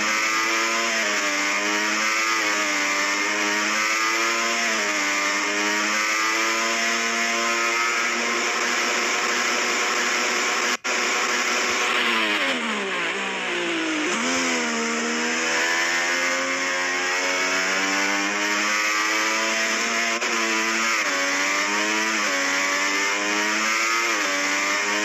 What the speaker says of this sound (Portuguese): curtindo mais um pouco aí, mais um som aí da volta do motor